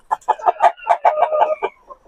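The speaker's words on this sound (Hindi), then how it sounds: "ये मुर्गियां जो हैं वो देखो वो अंडे दे रही" Several hens cluck in a rapid, uneven series of short calls while laying eggs, close and fairly loud, with no talking.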